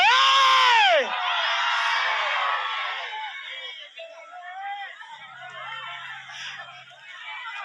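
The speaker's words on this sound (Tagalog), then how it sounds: "At sabay-sabay tayong sumigaw ng uhay!" A live band concert audience in Medina, Misamis Oriental shouts and cheers together in a loud burst of high screams and whoops, then settles into scattered yells and chatter that fade into a lower crowd murmur.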